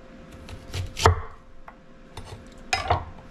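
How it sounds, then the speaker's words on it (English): A knife chops ginger into pieces on a cutting board, with several sharp, close thuds, one much louder than the rest, and quieter cuts between them, with no talking. "Cut it into manageable pieces for the blender, so that the blender can do its work."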